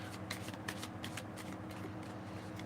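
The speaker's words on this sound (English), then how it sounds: "I'm going to shuffle 3 times and see if anything else falls out for you." Playing cards are shuffled by hand for a psychic reading, a run of crisp riffling bursts in quick rhythm, close and clear over a faint low background hum, with no one speaking.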